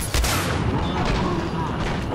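Gunfire in the first-person shooter Singularity: a dense burst of loud, booming shots and blasts, overlapping into a continuous rumble for about two seconds.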